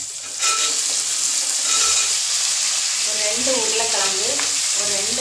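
Brinjal and potato sizzling in hot oil in a pan, a steady loud crackling hiss throughout with stirring scrapes; a voice speaks faintly underneath.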